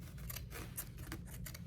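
Fabric scissors cut through old denim jeans with a quick series of crisp, close snips in an irregular rhythm, several blade closures in a row, faint with no talking.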